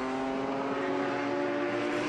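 A Formula 2 race car runs in a vintage feature race at Watkins Glen. Its engine gives a loud, steady high-pitched whine held at constant revs for the whole moment, with no talk over it.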